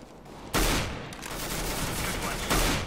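Rapid gunfire in a CS:GO match, two loud broadband bursts standing out over continuous noisy in-game action, with sustained firing between them and no clear talk.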